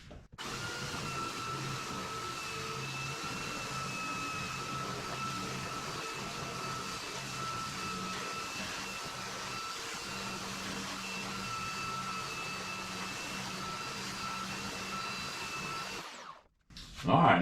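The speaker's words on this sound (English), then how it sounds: "Let's do a little bit of grinding." A power tool grinds down an old boat, working toward brass nails, in one loud, steady, continuous whine that runs for about sixteen seconds before cutting off abruptly.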